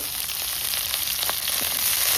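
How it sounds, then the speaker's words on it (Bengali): Vegetables fry in hot oil at an outdoor winter picnic, giving a close, continuous crackling sizzle that holds steady throughout. "ভেজে নেবো, সব সবজি ভেজে নিতে হবে, সব সবজি ভেজে নেবো"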